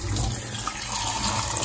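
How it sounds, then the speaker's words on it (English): Steady rush of water running from a domestic hot tap while a boiler's flow rate is checked, a continuous broadband hiss close to the microphone with no talking. "At the moment, this is what we've got from the hot tap"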